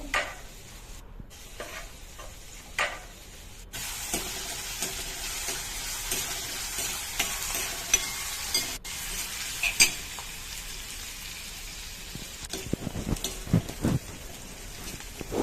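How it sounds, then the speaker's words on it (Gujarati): Raw chopped onion sizzles in hot oil in a pan for chickpea curry, a steady crackling hiss with intermittent scraping of a spoon stirring, close and continuous with louder clatter near the end. "એમાં કટિંગ કરેલી ડુંગળી નાખીશું એ કાચી ડુંગળી છે આ હવે એને સતત હલાવતા રહીશું"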